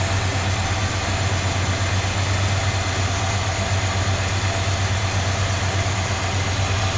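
A 1970 Dodge Polara wagon's engine idles in neutral, a steady, even rumble with a low droning hum that holds unchanged and close throughout, with no voices.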